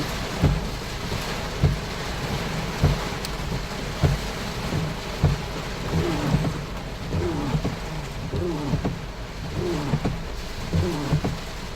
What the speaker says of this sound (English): It's not going to help in this kind of rain.